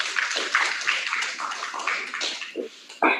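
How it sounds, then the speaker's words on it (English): Applause from the floor of a congress session, a short burst of many hands clapping, dense and fairly close, with a sharper clap cluster at the end. "Can we please give him a round of applause?"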